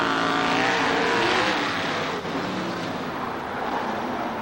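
CRA sprint race cars in a 1991 heat at Hales speedway, roaring loudly and continuously as the pack runs tight together down the back straightaway, with a dense, steady engine howl throughout.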